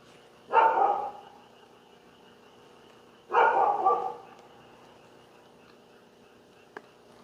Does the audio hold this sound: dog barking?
yes